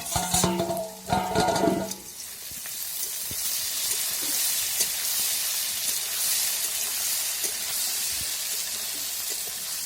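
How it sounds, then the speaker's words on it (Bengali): Potatoes frying under a lid in a pan, a steady soft hiss and sizzle running throughout after a brief clatter of stirring at the start. "মাঝে মাঝে ঢাকা খুললে দেখে নিতে হবে আলুগুলো ঠিকঠাক ভাজা হচ্ছে কিনা"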